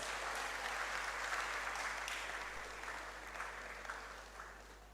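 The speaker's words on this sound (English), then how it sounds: "We'll keep clapping for him until he sits." Conference audience clapping for a reverend as he returns to his seat, a soft, distant broadband patter of many hands over a low steady hum, gradually tapering off.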